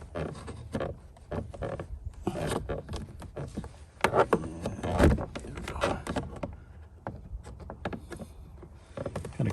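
A flathead screwdriver pries at the gray plastic door trim panel of a Toyota Tundra, producing a scatter of close, sharp clicks, creaks and knocks in an uneven rhythm.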